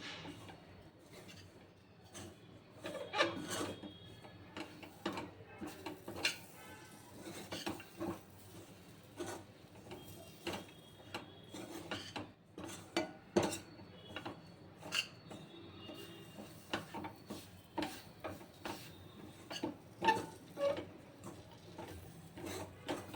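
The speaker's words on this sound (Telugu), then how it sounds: "నెయ్యి వేసేసి కలపాలి" Ghee is stirred into a dry fruit laddu mixture in a pan, a faint, busy run of rapid scraping and clicking of a spoon against metal, continuing unevenly throughout with no voices.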